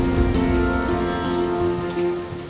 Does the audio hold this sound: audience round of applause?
no